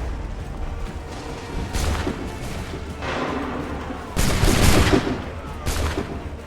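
A massed musket volley crackles in the Assassin's Creed III video game, several loud overlapping blasts rolling over a continuous battlefield din, with the heaviest burst near the middle.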